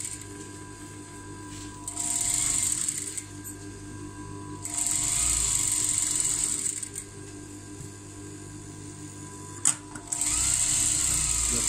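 A sewing machine stitches a plain blouse in bursts of steady, high-pitched whirring, several runs of a few seconds each separated by pauses, close and clear over a faint background hum.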